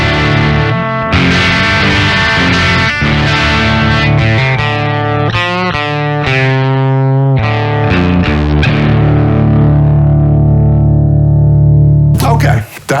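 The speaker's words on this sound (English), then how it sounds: "that's our unaffected sound" Dry electric guitar played with an Eventide H90 bypassed, with loud, strummed chords and picked notes sounding clean and sustained, ending in a brief noisy click.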